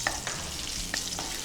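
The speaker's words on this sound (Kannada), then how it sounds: "ಒಗ್ಗರಣೆಗೆ ಈ ಥರ ಒಗ್ಗರಣೆ ಹಾಕ್ಕೊಳ್ಳೋದು" Cinnamon, cloves, cardamom, bay leaf, cumin and green chilli sizzle in hot sunflower oil as a tempering, a steady close frying hiss broken by a few stirring clinks and scrapes.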